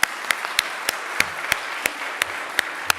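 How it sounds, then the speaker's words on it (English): At a charity concert, one or a few people clap slowly and evenly, about three claps per second, over a soft wash of broader applause from the room. "Can we have a round of applause for Claire?"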